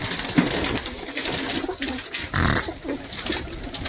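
A pigeon coos close by in soft, repeated throaty calls, surrounded by a steady hiss of background noise.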